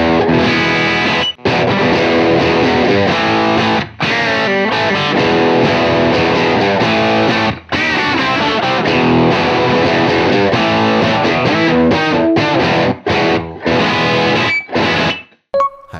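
Overdriven Sadowsky semi-hollow electric guitar played through a UAD Lion '68 Marshall amp plugin at default settings, with crunchy chords and riffs strummed loud and steady, a few brief stops near the end.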